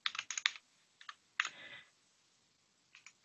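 Typing on a computer keyboard in a few short clusters of crisp, close keystrokes separated by pauses, with one longer burst in the middle and no speech.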